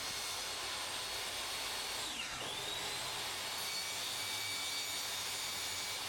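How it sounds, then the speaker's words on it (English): Steady high whine of a table saw cutting a Perspex sheet, loud and constant throughout with a brief pitch sweep midway as the blade bites into the plastic. "a bit of Perspex flexiglass here, goes through the table saw"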